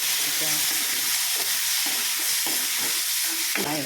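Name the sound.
frying and stirring dill semolina sajjige in a pan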